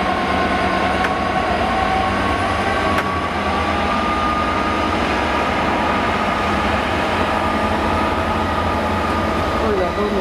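Train pulling into Cardiff Central station, a steady loud rumble and rail noise with faint whines and squeals, continuous throughout.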